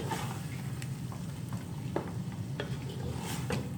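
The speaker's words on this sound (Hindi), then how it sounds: "इसको भूनेंगे ताकि दूध जो है वो थोड़ा खुश्क हो जाए।" Grated carrots with milk sizzle over a high flame for gajar halwa, a steady frying hiss punctuated by occasional stirring scrapes and clicks of the spoon against the pan, close and without talk.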